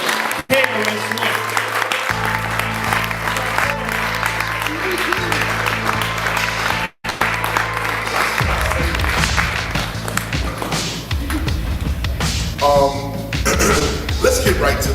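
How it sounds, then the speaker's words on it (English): An audience applauds for a speaker at a Temple of Hip Hop spiritual study session, with dense clapping running throughout over a steady musical hum and a brief dropout near the middle. "Let us all give a wonderful round of applause for the teacher"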